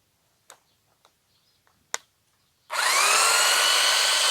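A few faint clicks and taps, then a power sander used as a flat sanding table for knife making starts up loud and runs steadily with a broad whirring hiss.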